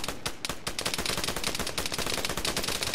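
Gunfire in the military shooter game Arma 3, heard as a rapid, dense run of loud shots with almost no gaps, like sustained firing at close range.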